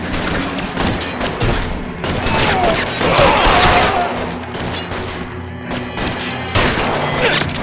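Gunfire in a street shootout from L.A. Noire, set in 1940s Los Angeles, with sustained volleys of rapid shots, crashes and impacts, loud and close, ebbing briefly before flaring up again near the end.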